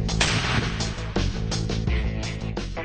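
A Milkor M-32 MGL grenade launcher fires 40mm rounds in a fast series of heavy, booming thumps, about five or six shots within three seconds, close and loud.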